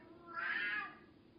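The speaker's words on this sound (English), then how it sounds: "That's my cat." A cat meows once, a short rising-and-falling call in the middle of a quiet indoor room, close and clear with no talking.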